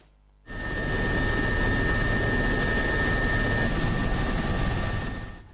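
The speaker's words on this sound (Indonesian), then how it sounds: "Dengan menggunakan helikopter milik TNI Angkatan Udara, PLT Gubernur Sulawesi Selatan Andi Sudirman" An Indonesian Air Force helicopter at an earthquake disaster site, a loud steady rotor and engine roar that starts abruptly and holds constant, with a faint high whine on top.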